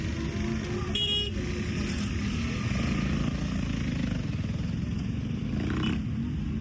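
Motorcycles roll past amid steady road traffic at India Bike Week, a continuous nearby engine drone with a brief horn toot and another bike swelling past later.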